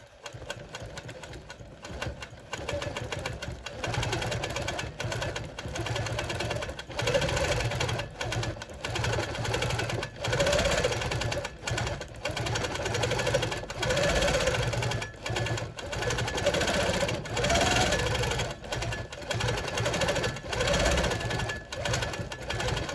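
A sewing machine doing free-motion quilting of a feather medallion on preprinted whole cloth, its needle chattering rapidly in long runs with brief pauses and speed changes, close and steady, with no talk.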